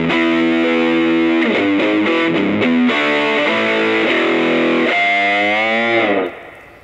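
Heavily distorted electric guitar through a Marshall amp simulation plays sustained notes and bends, loud and close, then cuts off abruptly.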